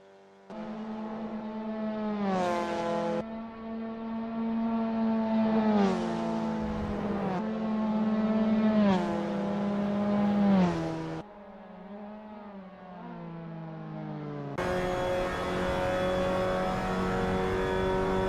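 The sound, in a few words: Mazda MX-5 Cup race car driving on track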